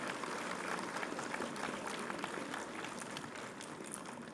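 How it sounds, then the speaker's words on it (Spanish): Faint, distant applause from an audience at a panel discussion on mental health, addictions and violence, a thin steady patter of clapping. "Un aplauso, por favor."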